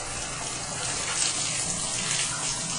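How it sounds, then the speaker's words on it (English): Water runs steadily from upstairs taps in a house under inspection in Allen, Texas, a continuous broadband rushing and splashing into a sink that stays close and fairly loud for the whole stretch. "turn on the taps here"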